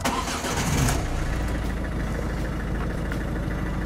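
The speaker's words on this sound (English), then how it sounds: "You need to start up your car." A car engine is started with the ignition key, turning over and catching before settling into a steady, fairly loud idle that continues alone without talking.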